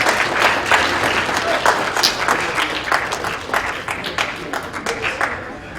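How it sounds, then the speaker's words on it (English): Applause from the audience at a US Park Foundation conference speech in Washington, DC: a dense, continuous wash of many hands clapping, fairly loud and close, with some voices mixed in. "So give yourself a hand of applause."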